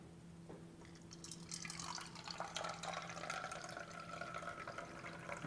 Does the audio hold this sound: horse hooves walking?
no